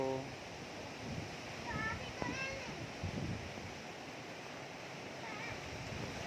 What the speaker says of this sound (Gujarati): જો આજે પવન બહુ ચડી ગયો છે